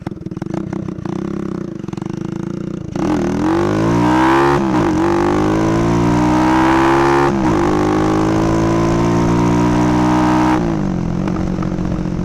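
A motorcycle accelerates hard through the gears, its engine climbing in pitch, dropping at each shift and climbing again. The loud, steady roar is recorded up close with no talking.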